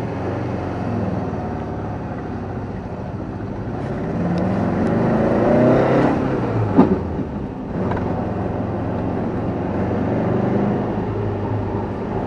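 A 1970s Porsche 914 driving along, its engine droning steadily from inside the car, rising slightly mid-way, with a brief click and some rattle partway through.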